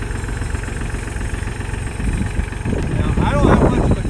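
A tractor engine runs with a forklift attachment lifting a load of feed, a steady low rumble that swells louder and rougher toward the end as the load pulls down, with talk over it.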